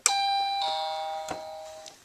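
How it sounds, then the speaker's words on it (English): A doorbell rings inside a Playmobil toy-house play scene, giving a loud, clear ding-dong chime whose tones ring out and fade over about two seconds, with no talking. "Ring the bell."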